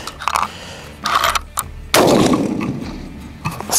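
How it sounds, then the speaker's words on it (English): A Howa Super Lite rifle fired outdoors, one sharp loud shot followed by a long decaying boom and echo, preceded by a few smaller handling clicks and rustles. "All right, here goes shot five."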